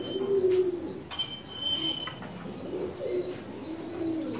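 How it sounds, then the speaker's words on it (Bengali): Pankhi fantail pigeons coo in a loft at a Dhaka pigeon market, a low, steady murmur from several birds, with occasional sharper chirps and a brief wing flutter. No one talks. "এগুলো পাঙ্কি কবুতর, এগুলো নতুন কালেকশন করছি আমি"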